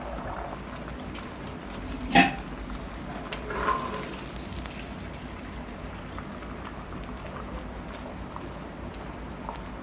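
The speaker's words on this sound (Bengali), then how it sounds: "তাওয়ায় আমি তেল দিয়ে দিচ্ছি। আমি ডিমগুলা দিয়ে দিচ্ছি।" Eggs dropped into hot oil on a tawa give a steady crackling, rain-like sizzle throughout, with a sharp knock and a brief louder hiss early on, close and without talk.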